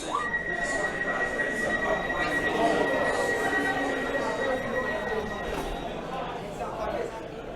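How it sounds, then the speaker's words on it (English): An Elizabeth line underground train rumbles and pulls away from Bond Street station, a thin high whine drawing across the noise, with people talking nearby over the steady roar. "There it goes, the very first westbound departure from Bond Street Station."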